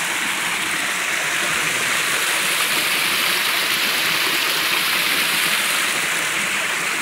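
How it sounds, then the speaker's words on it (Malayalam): Water pouring down from the top of a small village waterfall, a steady, loud, full rush of splashing flow without pause or voices. "ഇത് ടോപ്പിന്ന് ഒഴുകി വരുന്ന വെള്ളമാണ്."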